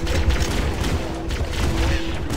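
Halo video game pistol gunfire, a dense continuous fusillade of overlapping shots with explosive booms, loud and busy throughout with no clear talk.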